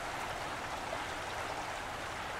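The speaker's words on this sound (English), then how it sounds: "Let me cross this creek here." Creek water flowing steadily along a hiking trail at the point where it must be crossed, a continuous broadband rush that stays at an even, fairly close level throughout with no talking.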